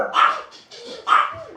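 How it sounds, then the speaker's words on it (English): Two sharp, close dog barks about a second apart, with softer yips between them. "the dogs who have never heard cars before are now going to bark"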